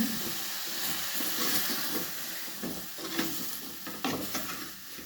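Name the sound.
stirring and mixing food frying in pan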